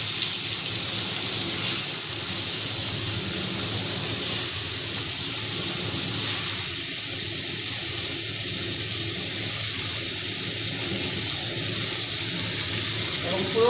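Spiced eggplant pieces dropped into hot oil for a Bengali begun dish, giving a steady loud hiss and sizzle that runs throughout with no break.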